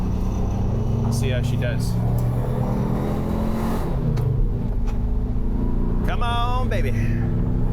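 A 1968 Volkswagen Karmann Ghia engine drones steadily while cruising at around 48 mph, a constant close rumble with brief whines, as someone talks over it.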